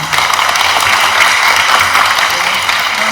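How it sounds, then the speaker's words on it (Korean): An audience at a book talk concert at Ewha Womans University claps to welcome the host, a continuous broad patter of many hands, fairly loud and even, with no voices over it. "큰 박수로 오늘의 사회자를 소개해드리겠습니다."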